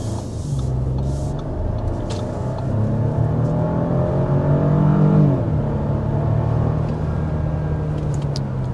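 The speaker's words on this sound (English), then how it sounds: "we are speeding up to 55 miles per hour" A 2025 Audi Q7 accelerating, heard steadily from inside the cabin: a smooth engine drone rising in pitch, a brief drop at a gear change, then settling into a steady hum.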